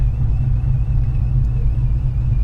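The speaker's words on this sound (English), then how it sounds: "This car sounds mean and is ready to get down." A supercharged 2009 Dodge Challenger SRT8 with a Tremec six-speed manual idles with a deep, steady, close engine rumble that holds even throughout, with no talk over it.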